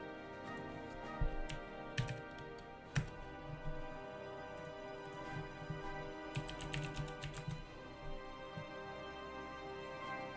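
Scattered clicks and taps of typing on a computer keyboard come in short bursts against a steady hum, with no voices.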